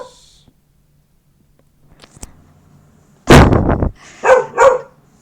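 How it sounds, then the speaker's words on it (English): A pet dog named Buddy barks in a living room: a loud, close burst of several rapid barks, a short pause, then two more sharp barks, after a quiet stretch with faint background noise. "I make videos in my living room, so you're gonna hear my dogs a lot"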